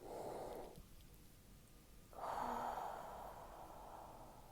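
A slow, deep breath during a mindful breathing exercise: a long airy inhale, a short pause, then a fuller drawn-out exhale, close to the microphone with a faint background hiss and no talking.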